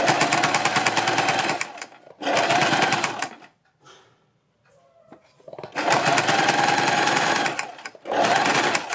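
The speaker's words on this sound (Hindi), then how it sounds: "आप इसको रखकर इसके ऊपर सिलाई लगा दें।" Sewing machine stitching a strip onto a neckline, with close, loud bursts of rapid stitching separated by short pauses and a longer quiet gap in the middle.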